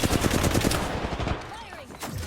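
Rapid gunfire bursts in a shooter game, loud crackling shots for about a second before tapering into quieter game effects.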